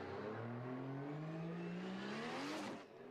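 An 800-horsepower Toyota 86 drift car revs hard during Formula Drift Japan qualifying at Suzuka Twin Circuit, its engine note climbing steadily for a few seconds and then cutting off, heard from a distance.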